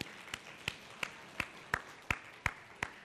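Students in a Thai classroom clap in a steady, evenly spaced beat, about three claps per second, moderately close and clear over a quiet room.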